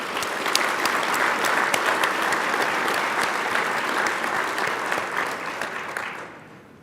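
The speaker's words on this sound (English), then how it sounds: "Let's give a big round of applause to Trooper Chad Staggs" Audience at a state trooper and dispatcher awards ceremony applauds loudly, a dense sustained round of clapping with sharp individual claps standing out, fading away toward the end.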